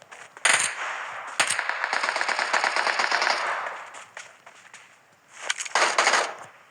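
Video game gunfire with rapid automatic bursts, one long sustained volley followed by another short burst after a pause, loud and close with no talk.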